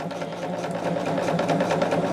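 Sewing machine running steadily as it stitches quarter-inch seams along squared quilt pieces placed right sides together, a close, continuous whirring hum that grows slightly louder after the first moment.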